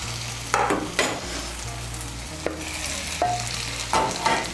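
Fried potato and pointed gourd pieces stirred into sizzling spice paste in a pan for a Bengali pointed gourd and prawn dish, steady frying hiss broken by repeated scraping stirs of a spatula.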